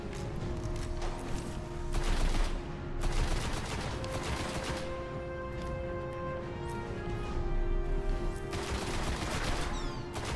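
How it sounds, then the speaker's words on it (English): Rapid gunfire from shooting in the PS4 video game Destiny, a dense, continuous barrage of shots and crackling effects that swells in a few louder bursts, with no voices over it. "I'm just trying to shoot, stay alive."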